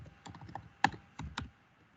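A few quiet keystrokes on a computer keyboard, close and sparse, with one sharper press in the middle and a small cluster afterward, no voices.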